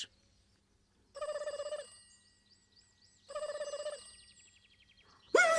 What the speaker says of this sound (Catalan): I ara el telèfon.